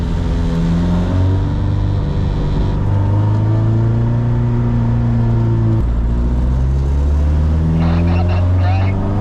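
The Alfarrari race car's engine drones loudly on a race track, with pitch rising and falling through gear changes and an electronic beep near the end.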